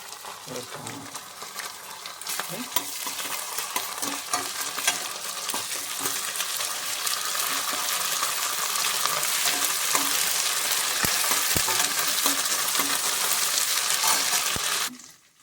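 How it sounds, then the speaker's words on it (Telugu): Ginger garlic paste frying for mutton curry, a bright sizzle that swells louder halfway through, with occasional clinks of a spoon against the pan, close by and cutting off abruptly at the end. "అల్లం వెల్లుల్లి పేస్ట్ వేస్తున్నాను ఇప్పుడు"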